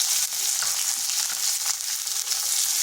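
Chopped garlic and onion frying in hot oil, a steady, close, bright sizzle with no pauses.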